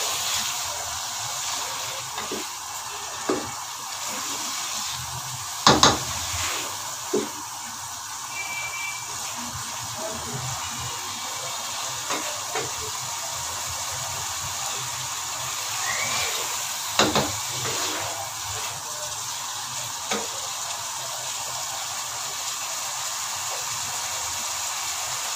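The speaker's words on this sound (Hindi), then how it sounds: "जब तक हमारा चिकन अच्छी तरह से भूनते हैं" Chicken frying with Chinese salt and spices in a pan for chicken biryani: a steady faint sizzle and hiss throughout, with a few soft clinks and stirring knocks scattered over it.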